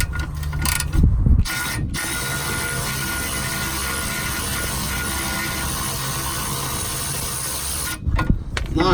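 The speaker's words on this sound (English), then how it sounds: "We've got this Milwaukee ratchet to try. Let me break it loose first." A Milwaukee powered ratchet loosens an anti-roll bar bushing bolt on a Skoda Superb, producing a steady, loud mechanical whirring and ratcheting buzz held for several seconds. Short clunks from the tool at the start and end frame the run.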